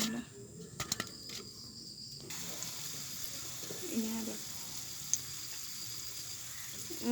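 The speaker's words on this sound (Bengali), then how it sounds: "এভাবে আমি সবগুলো পিঠা ভেজে নেব" Pitha rice cakes fry in hot oil, a soft, steady sizzling hiss that stays faint and close, broken by a few light clinks and taps.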